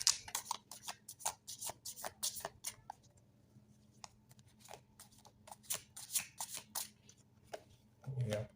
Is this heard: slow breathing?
no